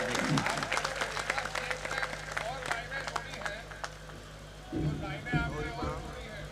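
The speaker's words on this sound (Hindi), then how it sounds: "तालियों से इस्तकबाल कीजिएगा संतोष जी।" Audience at a Hindi poetry gathering (kavi sammelan) in Bangarmau claps to welcome poet Santosh Anand, with scattered applause under a voice, a steady hum beneath, then the clapping fades as the talking continues.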